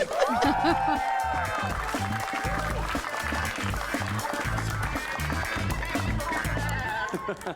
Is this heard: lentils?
no